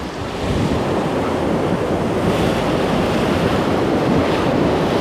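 Sea waves on a windy shore during a snapper fishing outing, a steady loud wash of surf rolling in continuously with wind buffeting the microphone and no voices.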